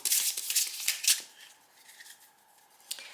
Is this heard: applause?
no